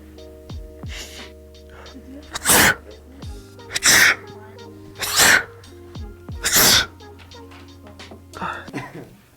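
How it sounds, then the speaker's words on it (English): Four loud sneezes follow one another at roughly one-second intervals in a quiet library, each a sharp burst, with soft breaths and faint voices between them. "Oh, sorry, I keep sneezing."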